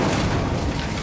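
Incendio fire spell cast in the video game Hogwarts Legacy, a loud, dense burst of fiery, booming noise that fills the whole short moment without letting up, with no talk over it.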